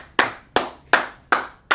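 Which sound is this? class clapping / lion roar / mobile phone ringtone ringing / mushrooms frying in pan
class clapping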